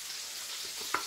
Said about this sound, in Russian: Обжаривается быстро.